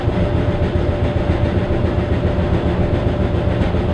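Speed Queen ADEE8RGS electric dryer running just after startup, a steady close rumbling hum with a faint rattle and a thin constant whine, level and continuous throughout.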